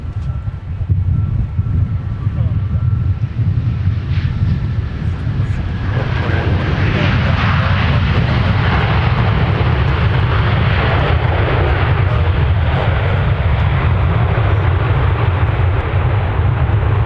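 A Kalitta cargo jet roars down the runway on takeoff at an airport, its engines a loud, steady broadband rumble that swells with rising hiss and stays strong and sustained throughout, heard from a distance with some wind buffeting the microphone.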